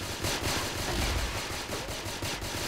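Rapid, continuous automatic gunfire from a shooting video game, steady and fairly loud for the whole stretch with no talking over it.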